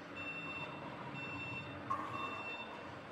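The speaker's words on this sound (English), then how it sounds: "You can hear the backup alarm here." A steady electronic backup alarm on a Lift Hero LG25B 5,000 lb electric forklift beeps in a regular repeating pattern over a low motor hum, moderately loud, while reversing.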